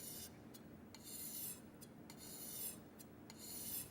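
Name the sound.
knife being sharpened on a whetstone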